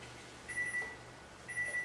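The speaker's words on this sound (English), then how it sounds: "I'm not going to start the pressing until I hear the timer. And there's my timer." Two short electronic beeps from a kitchen timer, about a second apart, sound clearly over a quiet room hum, timing coffee in a coffee press.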